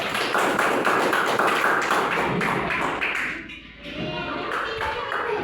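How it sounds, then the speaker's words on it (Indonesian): Students in a classroom clap for a classmate who answered a question, a dense burst of hand claps lasting about three seconds before thinning out, with faint voices in the background. "Kasih tepuk tangan dulu"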